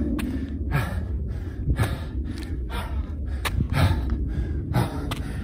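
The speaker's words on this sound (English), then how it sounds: "that breathing y'all hearing, that's real, man" Heavy, rhythmic breathing from someone doing an uphill HIIT workout outdoors, with repeated loud gasps and snorting exhales roughly every second, close to the microphone.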